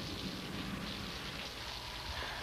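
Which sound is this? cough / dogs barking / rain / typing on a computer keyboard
rain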